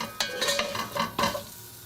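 Ingredients toasting in a pot for Tom Kha Gai, spicy Thai coconut soup, with a soft sizzle broken by a few quick stirring scrapes, close and fairly quiet.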